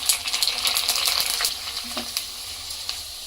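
Puris fry in hot oil, giving a close, steady sizzle with scattered crackles and pops that thin out toward the end.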